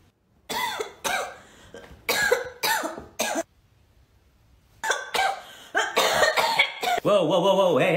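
A series of harsh coughs comes in clusters, loud and close, with a brief quiet gap before another burst of coughing.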